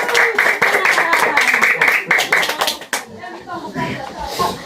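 Children clap their hands together in a classroom counting game, a dense run of quick, loud claps for about three seconds that then thins into scattered claps and murmuring voices.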